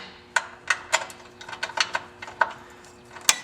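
A hand ratchet clicks in short irregular bursts while tightening skid plate bolts on a Victory motorcycle, sharp close metallic ticks with brief pauses between pulls, ending in one louder snap.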